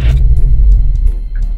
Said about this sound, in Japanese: じゃあエンジンかけさせていただいて